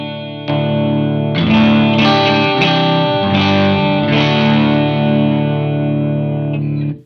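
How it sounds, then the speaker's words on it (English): An electric guitar plays through a Santono Uno preamp pedal, pushing the amp into thick saturation. Sustained distorted chords ring loud and close, with a few restruck attacks before the sound cuts off abruptly. "most of the saturation you're hearing there is really coming from this pushing my amp, not so much the pedal itself"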